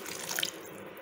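A splash of water goes into a pan of chickpea curry, a brief close pour and trickle of liquid lasting about a second, with no voices.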